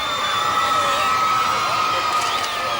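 Crowds gathered in mist and drizzle in Maidstone in 1984 cheer for the Queen's visit to open the new law courts, a dense, constant roar of voices with high shouts and whoops rising over it.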